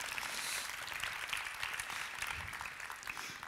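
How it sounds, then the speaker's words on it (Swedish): Audience applause at a conference talk, dense steady clapping from a room full of people, moderately distant and fairly quiet throughout, without speech. "En applåd för Ann."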